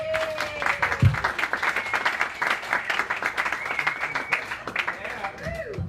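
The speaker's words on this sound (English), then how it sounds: "give a big round of applause for my good friend from Pittsburgh, PA, Trey McDonough" Audience at a comedy show in a movie house bursts into sustained applause with whoops and cheers for a comedian introduced from Pittsburgh, a loud, dense clapping wash filling the room throughout.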